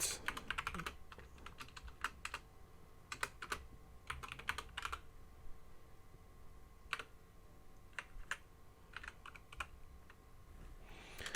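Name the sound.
typing Java code on a computer keyboard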